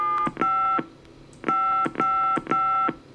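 Telephone keypad tones in the Gabriel Knight adventure game dial a long number, a rapid series of loud beeps in quick bursts with short pauses between groups.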